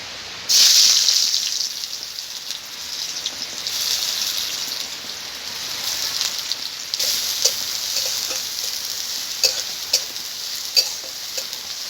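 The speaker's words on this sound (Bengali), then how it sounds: "এখন তেলটা গরম হয়ে গেছে, আমি পেঁয়াজ কুচি দিয়ে দেবো।" Chopped onion hitting hot oil in a pan, followed by a steady bright sizzle and hiss that holds for several seconds with faint scattered pops, close and fairly loud with no talking.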